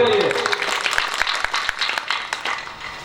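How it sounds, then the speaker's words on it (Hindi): Scattered clapping from a gathered audience rises under a speaker's voice, with uneven claps that thin out toward the end. "ताली बजाओ इसके लिए।"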